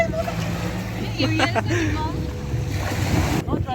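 Steady wash of sea waves and wind rumble, with brief voices and splashy bursts breaking through the constant surf noise.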